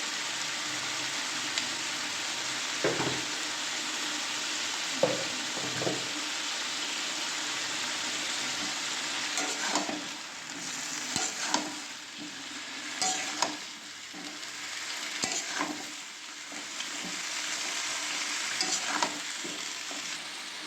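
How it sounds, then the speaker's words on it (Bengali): Cauliflower pieces fry and sizzle in a pan with chilli powder, a constant close hiss punctuated by stirring scrapes and spatula knocks, no voices. "ফুলকপিগুলো বেশ ভাজা ভাজা হয়ে গেছে। এবারে আর একটু ভাজা ভাজা হয়ে যাক।"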